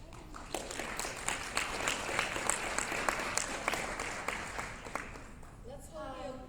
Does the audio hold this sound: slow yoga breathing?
no